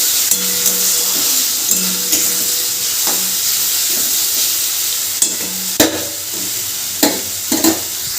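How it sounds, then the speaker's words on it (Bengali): Spice masala for ghugni, a chickpea and pea curry, sizzles and fries in a pan while being stirred, with steady hissing throughout and scraping clicks and knocks of the spoon against the pan. "মশলাটা প্রায় তিন চার মিনিট মতো এভাবে আমি একটু কষে নেব"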